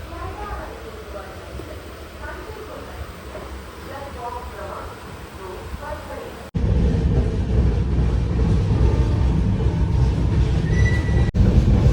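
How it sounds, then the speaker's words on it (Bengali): The Kanchan Kanya Express runs after leaving Sainthia Junction, heard from inside a general coach as a rolling rumble with wheel rattle and squeal that grows suddenly louder midway, with faint voices early on. "আমাদের ট্রেন সাঁইথিয়া জংশন থেকে ছেড়ে দিল"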